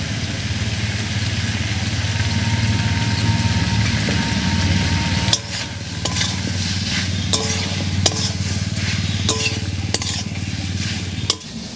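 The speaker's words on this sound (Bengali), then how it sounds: "মশলাটা দিয়ে একটু নাড়িয়ে নিয়েছি" Ground spice paste being stirred into boiled potatoes and stalks in a pan, a steady sizzle with scraping and clinking of a spatula, plus a low motor-like hum in the first half.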